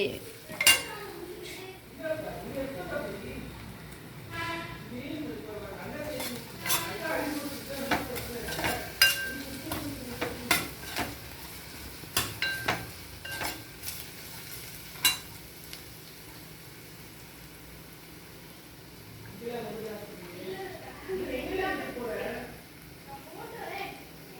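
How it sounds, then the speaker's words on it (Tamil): Onions sauté in a pan for a roadside-style peas sundal, a low sizzle with intermittent spatula scrapes and metallic clinks of utensils against cookware, while a person talks over much of it. "வெங்காயம் நல்லா வதங்கிருச்சு"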